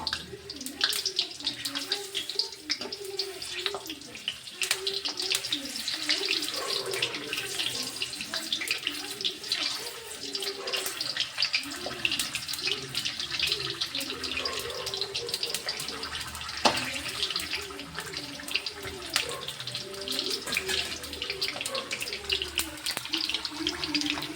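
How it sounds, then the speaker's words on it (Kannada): Eggplants deep frying in hot oil give a continuous, close hiss and crackle of bubbling oil that runs steadily throughout, with faint voices at times. "ಈ ಬದನೆಕಾಯಿಗಳನ್ನ ಈ ಎಣ್ಣೆಗೆ ಚೆಂದಾಗೆ ಫ್ರೈ ಮಾಡ್ಬೇಕ್ರಿ ಈಗ ಡೀಪ್ ಫ್ರೈ ಮಾಡ್ಬೇಕ್ರಿ"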